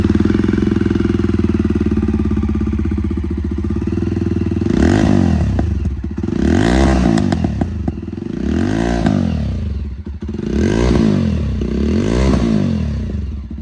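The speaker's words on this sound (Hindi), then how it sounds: "यहाँ पे अक्षत भाई बाइक को ऑन कर रहे हैं।" A Jawa Bobber 42 with twin silencer exhausts idles with a deep steady thump, then revs in four or five rising and falling blips at close range.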